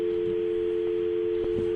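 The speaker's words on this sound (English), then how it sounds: "Or a dial tone." A steady telephone dial tone hums continuously over a phone line, loud and unbroken, with faint background bumps beneath it.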